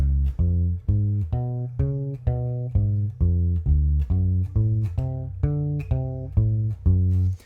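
Single notes of a dominant seventh arpeggio ring out one after another at a slow, even pace, climbing and falling in a repeating pattern, clear and alone.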